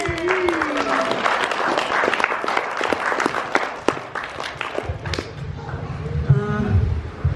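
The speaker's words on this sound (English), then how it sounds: "and Christopher had a birthday on Thursday, so we can give them a clap" Applause for a birthday during a Niuean haircutting ceremony in New Zealand, a steady burst of clapping from the gathered family with voices talking over it, thinning out toward the end.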